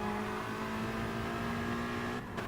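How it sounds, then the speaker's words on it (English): A Ford race car roars steadily past in Gran Turismo Sport at Spa, a loud continuous engine drone with a high whine throughout that cuts off sharply near the end. "Oh, the Ford getting through."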